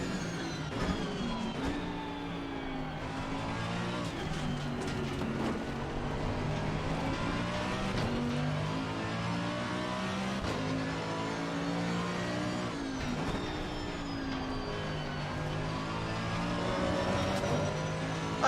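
A GT race car engine in the racing sim Assetto Corsa Competizione at Zandvoort revs steadily with repeated gear-shift dips and rises, loud and continuous for the whole stretch, with no talk.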